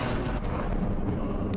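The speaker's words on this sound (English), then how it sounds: "there's a big error and explosion" Big explosion in a Half-Life parody, a loud continuous low rumbling roar that fills the whole moment with no break.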